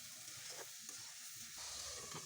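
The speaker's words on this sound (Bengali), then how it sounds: "এখন একটা নেড়ে চেড়ে একটু ভেজে নেব" Marinated chicken with salt and food colouring being stirred and fried in a pot for morog polao, a steady close sizzle with scraping stirs.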